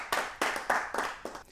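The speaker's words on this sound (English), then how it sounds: "Let's give them a big round of applause as they come with us to the finals" Claps from a small group applauding school teams headed to a quiz competition final, coming in five distinct bursts that each swell and fade, moderately close.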